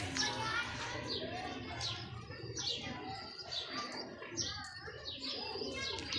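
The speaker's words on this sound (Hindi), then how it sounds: "ये कबूतर देखें आपके सामने माशाल्लाह, बड़े कमाल के कबूतर हैं" Several pigeons coo repeatedly close by, with scattered chirps and a busy background of other birds throughout.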